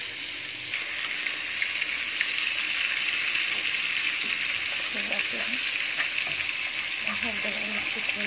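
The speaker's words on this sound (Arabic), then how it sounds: "وبقلي السمك اهو" Fish fries in ghee in a pan, giving a steady, loud, bright sizzle throughout, with a person talking faintly over it partway through.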